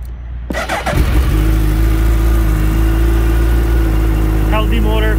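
A 2023 Suzuki Hayabusa ABS sport motorcycle starts up and settles into a loud, steady engine idle, with a brief rise in revs near the end.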